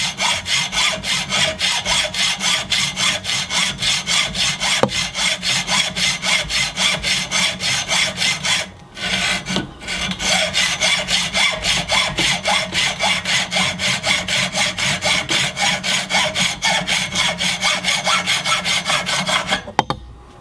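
Hand saw blade cutting through a strong steel rod held in a vise, a steady, loud back-and-forth rasping in even rapid strokes for about twenty seconds, with a brief pause midway and the strokes resuming until the cut ends.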